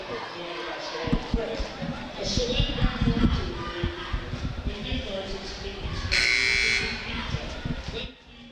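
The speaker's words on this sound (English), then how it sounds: "So the buzzer has sounded" A timeout buzzer at a high school basketball game between the Goats and Bulldogs blares for about half a second amid gym noise, crowd chatter, sneaker squeaks and ball bounces, with voices talking throughout.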